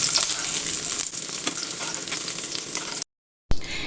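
Capsicum sizzles steadily in oil in a frying pan, a bright, continuous crackle up close that cuts out abruptly for a moment near the end before resuming.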